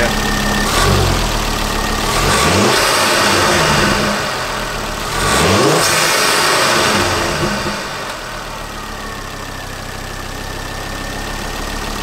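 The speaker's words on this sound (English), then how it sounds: "let's give it a rev and see what it sounds like," A car with a Pro Setup Inc 5251 aluminium induction kit revs hard twice, each rev climbing and falling back, before settling to a loud, steady idle with no talking.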